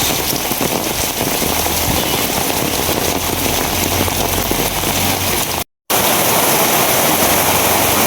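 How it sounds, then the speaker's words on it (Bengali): Heavy rain pours down in a steady, dense downpour during a fishing outing, a loud and unbroken hiss of drops striking surfaces, with one very brief dropout before the roar resumes. "আসলে বৃষ্টির গতিটা প্রচুর পরিমাণে"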